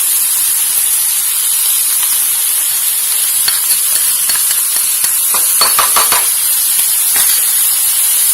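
Bitter melon and egg stir-frying in a hot pan, a loud, steady sizzling hiss with a cluster of scraping stirring strokes partway through.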